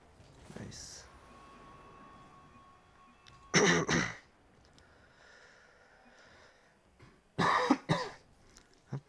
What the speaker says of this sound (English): Coughing so much.